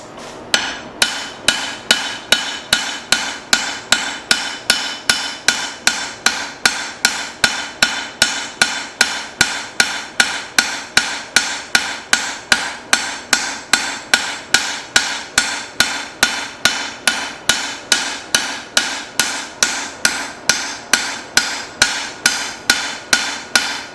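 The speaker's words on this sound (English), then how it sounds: "Try a heavier hammer." Hammer blows forge a metal spoon thin, dozens of sharp ringing strikes landing at a quick, very even rhythm, loud and close, with no talking.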